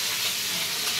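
Rui fish pieces frying crisply in hot oil in a pan, a steady, dense sizzle filling the whole short moment without pause, close and fairly loud, with no voices.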